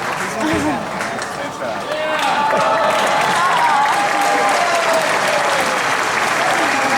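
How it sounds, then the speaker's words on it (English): A crowd applauds a contestant named Ivy at a KISS Kruise event in Las Vegas. The clapping is loud and sustained, with cheers and whoops mixed in, and it swells slightly after the first couple of seconds. "A round of applause for Ivy, everybody."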